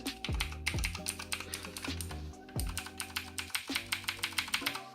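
A new computer keyboard being typed on, a steady fast clatter of key presses with a few heavier thuds, close and alone without speech.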